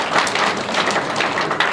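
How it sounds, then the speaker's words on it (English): Audience at a public book presentation applauds a professor being welcomed to the stage, with steady, dense clapping filling the room throughout. "Please let's put our hands together for him"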